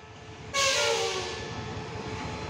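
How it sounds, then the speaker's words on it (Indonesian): Train noise at a railway station on the ETS Ekspres line: a loud blast or hiss bursts in suddenly and then settles into a sustained rumble with tonal hum. "Ini keretanya sudah tersedia, tujuan ke HTI, tapi lokomotifnya belum tersedia"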